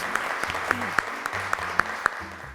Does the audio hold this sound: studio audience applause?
yes